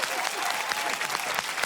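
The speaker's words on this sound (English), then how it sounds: "Everyone, big round of applause for the gorgeous Morag." Studio audience on a television comedy panel show breaks into loud, dense applause, a continuous roar of many hands clapping with a faint voice underneath.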